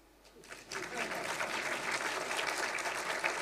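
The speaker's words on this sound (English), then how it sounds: "Time for you to clap." An audience at a book launch for a work on the Constitution breaks into applause after a brief quiet start, the clapping swelling quickly into a steady, moderately distant patter.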